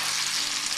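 Blintzes frying in a frying pan on a stove at medium heat, giving a steady, close hiss of sizzling oil that holds evenly throughout with no talking.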